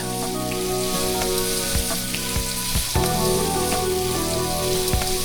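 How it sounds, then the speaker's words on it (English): Four bacon slices fry in a pan with a loud, steady crackling sizzle that runs throughout, broken by a few sharp pops and clinks close by. "grab your bacon and grab 4 slices. Place those on a simmering pan and let them cook."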